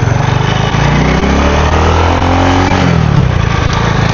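A Modenas Kriss 110 motorcycle fitted with an adjustable CDI runs loudly and steadily up close, its engine idling with a continuous buzzing drone and slight rhythmic variation throughout.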